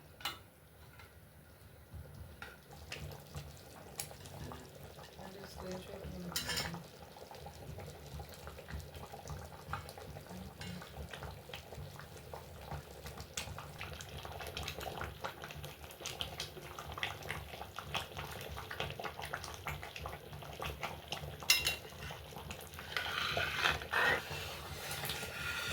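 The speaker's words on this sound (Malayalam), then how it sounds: "ഇവിടെ ഇളക്കിക്കൊണ്ടേ ഇരിക്കണം നല്ലപോലെ." Payasam is stirred in a bronze uruli pot over heat, the thick mixture bubbling and the ladle scraping and knocking softly against the metal in an uneven rhythm.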